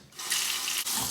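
Running tap water splashing into a sink while a freshly shaved face is rinsed, a steady close rush of water with a brief dip near the end.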